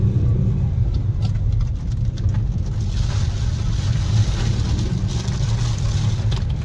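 Car engine revving hard to climb out after getting stuck on a monsoon road trip to Matheran: steady loud low rumble with road and wheel noise throughout, no talk.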